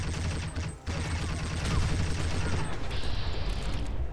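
Institute Pistol mod from Fallout 4 fired as fast as possible, a dense, continuous stream of rapid energy-weapon shots with a loud, steady rhythm and a brief gap near the start.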